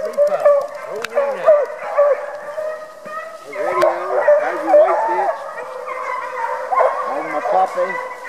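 Several hounds bark and howl together in long, wavering cries mixed with yips, fairly close, with people talking now and then.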